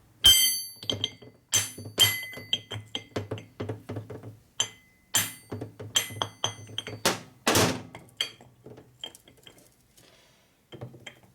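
A hammer strikes the tight key in the flywheel of a shovelhead motor being rebuilt, giving a series of sharp metallic knocks in uneven bursts, loud and close, with short pauses between groups of blows.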